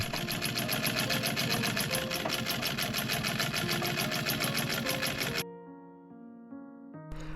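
A sewing machine stitches boning channels through an interfaced collar on a Victorian cape, its rapid rhythmic needle chatter running close and steady for several seconds before stopping abruptly. Soft music remains afterward.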